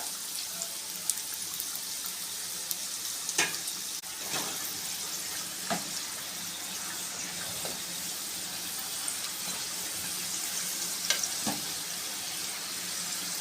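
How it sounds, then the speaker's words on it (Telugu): Steady sizzle of food frying in a pan as it is stirred and mixed, a continuous crackling hiss broken by a few soft scraping clicks, close by with no talking. "చూడండి ఫ్రెండ్స్, అన్నీ ఇలా కలుపుకోవాలి బాగా."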